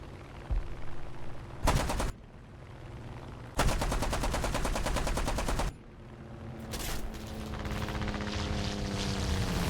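Aircraft guns firing in War Thunder, with two long bursts of rapid automatic fire and a shorter burst, loud and close, over a steady engine drone with no talk.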